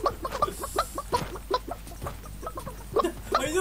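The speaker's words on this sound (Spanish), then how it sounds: "¡Era gallina!" A chicken clucks in the battle royale video game Realm Royale, giving a run of close, choppy, repeated clucks in an irregular rhythm with no talk over it.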